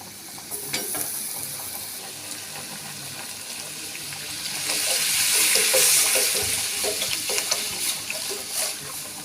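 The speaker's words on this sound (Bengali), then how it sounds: "একটু ফুটে উঠলে জল দিয়ে দেবো" Water pours into a kadai of boiling masoor dal, a hissing splash that swells and then settles into a bubbling sizzle with small clinks.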